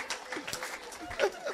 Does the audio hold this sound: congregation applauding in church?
yes